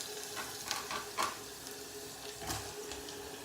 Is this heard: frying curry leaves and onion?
yes